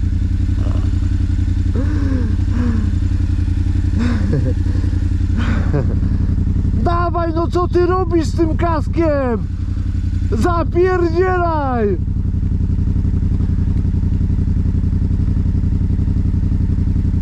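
A Yamaha Raptor quad bike, soaked after being driven into water, runs with a steady, loud engine and exhaust drone throughout while people shout over it.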